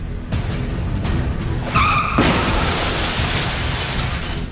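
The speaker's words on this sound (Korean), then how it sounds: "뒤에 오던 차들은 줄줄이 미끄러지면서 연쇄 추돌 사고로 이어지고 말았는데요" Cars slide on a rain-wet road into a chain-reaction pileup, with a steady loud roar of tires on wet pavement, a rising skid screech, and a heavy crash noise that continues into sustained rushing.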